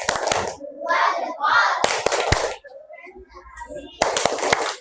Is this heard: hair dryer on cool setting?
no